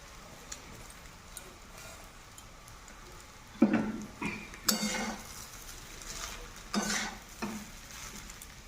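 Flattened rice (chira) fried and stirred in a pan, with a steady low sizzle and a few sharp scraping strokes of a spatula against the pan partway through, close by and with no talking.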